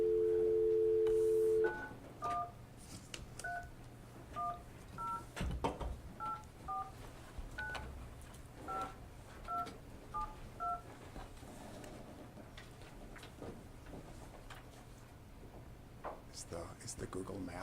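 Touch-tone dialing on a star phone: a steady dial tone gives way to a rapid string of about a dozen short DTMF beeps. Room noise and people talking sit underneath.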